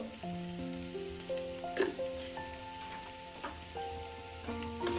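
Fig, potato and prawn curry with garam masala sizzles steadily as it is stirred in a frying pan, a soft continuous hiss sitting beneath louder background music.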